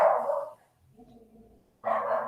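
Pet dogs bark at someone walking past with a dog, giving two close bursts of barking separated by a short pause filled with quieter whining.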